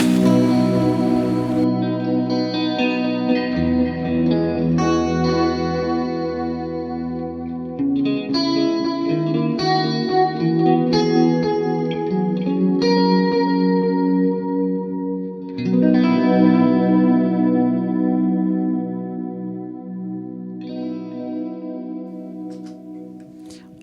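A Fender Player Limited Edition Stratocaster electric guitar played through chorus, echo and slight drive effects, ringing chords and arpeggiated notes that sustain and shimmer, clear and loud with no voice over it.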